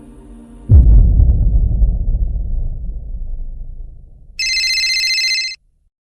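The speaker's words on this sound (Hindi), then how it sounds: "मुझे एक फ़ोन आया।" A telephone rings once near the end, a short bright electronic burst that follows a heavy low thud and a fading rumble.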